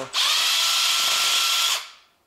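Electric screwdriver spinning up sharply and whining steadily for about a second and a half while loosening a cylinder head bolt on a Honda Civic 1.8 engine, loud and close, then winding down to silence.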